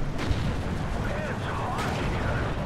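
Sherman tank gunfire in Steel Division 2, a World War II strategy game, sounding as dull artillery-like booms over a dense, continuous rumble of battle noise, with no clear isolated shots standing out.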